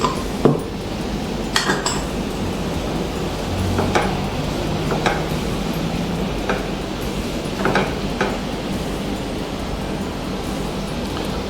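A spoon stirs an apple cider vinegar mixture in a pan, giving steady scraping with scattered metallic clinks against the pan. The sounds are close and clear, with no voices.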